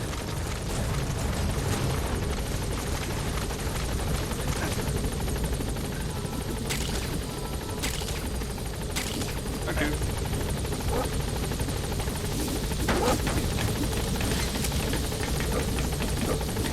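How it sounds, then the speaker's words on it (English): Support helicopter landing at a landing zone in Metal Gear Solid V: The Phantom Pain, a steady loud rotor drone filling the whole stretch with occasional sharp clicks, while a radio voice speaks over it. "Support helicopter has arrived."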